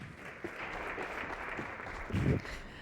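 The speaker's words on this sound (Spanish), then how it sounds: "Un fuerte aplauso." Audience applause welcoming a speaker to an inspirational talk, a faint, soft wash of many hands clapping at a distance, with a brief louder swell near the end.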